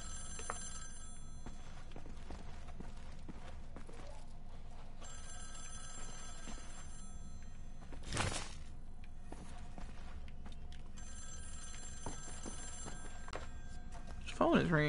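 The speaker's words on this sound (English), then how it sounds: "Which phone is ringing?" Telephone bell ringing in the video game Wolfenstein: The New Order, with steady repeating rings across the whole span, a louder burst near the middle and quieter game ambience underneath.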